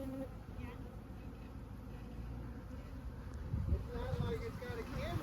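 Honeybees buzz around hives being brought down by commercial beekeepers in Texas, a faint, steady insect drone with wind, growing a bit louder toward the end.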